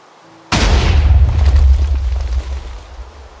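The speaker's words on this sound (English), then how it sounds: "So perhaps the TNT cannon is not dead, it's just become a much more expensive thing to build" A TNT cannon in a block-building video game detonates in one sudden, loud boom, then rumbles and crackles as it decays over about three seconds, with no voices.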